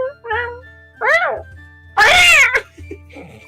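Human voices imitate a cat's meow in a quick back-and-forth exchange, three drawn-out mewing calls close to the mic, the last one loudest, with a faint jingle and low background hum.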